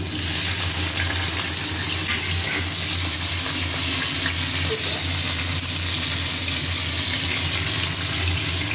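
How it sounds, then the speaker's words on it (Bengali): Paneer fries in hot oil in a pan with a loud, dense, continuous sizzle and hiss that holds steady throughout, close and alone. "একটু হালকা করে ভেজে নেব।"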